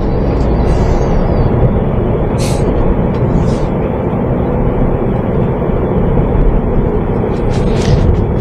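A Peugeot 308 CC cabriolet's 1.6 THP engine fitted with a direct air intake, a steady loud low rumble held at about 1500 rpm with faint hissing whooshes from the intake at moments, no talk.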